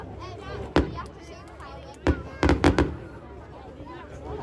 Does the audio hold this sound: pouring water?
no